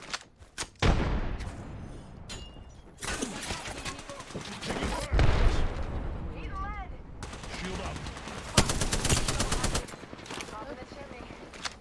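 Rapid automatic gunfire in the Apex Legends battle royale game, long rattling bursts of fire close by mixed with scattered shots, while voices talk over the fighting.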